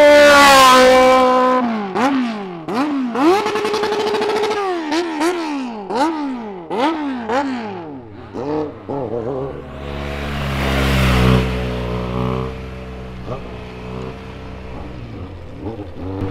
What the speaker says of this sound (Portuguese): Essa moto é barulhenta, hein, mano?